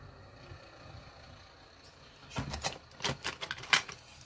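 Paper is cut for a scrapbooking card made from paper scraps, starting after a quiet pause with a short burst of close, sharp snips and rustles, the loudest near the end.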